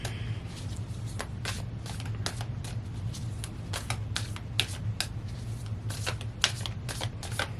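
Tarot cards shuffled close up in a quiet room: a rapid, irregular stream of crisp riffling flicks and slaps that runs steadily throughout over a faint low hum.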